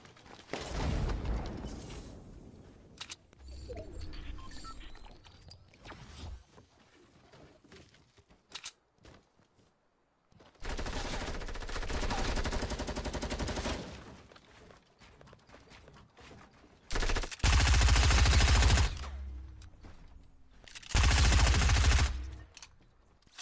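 Gunfire in the video game Fortnite comes in scattered bursts: a few isolated shots, then longer loud volleys of rapid fire separated by quiet stretches, with rustling and faint background game sounds in between.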